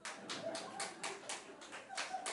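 Faint audience clapping in a church service, a series of roughly eight distinct claps in an uneven rhythm, quiet and somewhat distant in the room.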